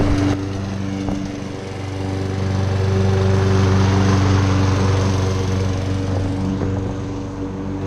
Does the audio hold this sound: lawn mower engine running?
yes